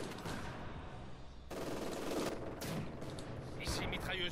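Bursts of gunfire in the Company of Heroes 2 war strategy game, machine guns included, crackling in irregular loud volleys over a busy battle din, with a voice talking at times.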